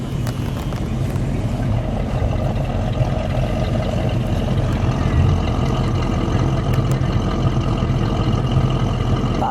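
A 1972 Ford Mustang Sprint with a 351 V8 idles steadily with a close, continuous rumbling burble and no revs or talk.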